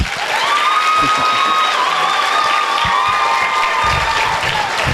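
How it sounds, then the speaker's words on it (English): A middle school gymnasium audience applauds during an assembly, sustained clapping from a large crowd with a few cheers, while a ringing tone sweeps through in the background. "let's hear a round of applause."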